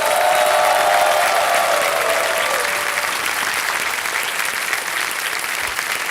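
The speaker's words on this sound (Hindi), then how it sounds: "बहुत जोर से ताली बज जाए इनके लिए" Loud, sustained applause from a studio audience on the game show Kaun Banega Crorepati, steady clapping filling the whole stretch without talk, easing slightly toward the end.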